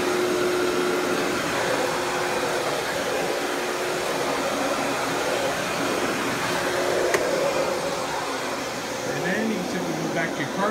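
A Panasonic Jet Flo MC-6255 upright vacuum cleaner runs with a steady, close whining roar that holds level throughout, with faint background sounds but no clear talk.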